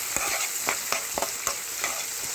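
Turmeric and curry leaves fry in hot oil in a pan as a spoon stirs them in quick repeated strokes over a bright, close, continuous sizzle, with no one speaking.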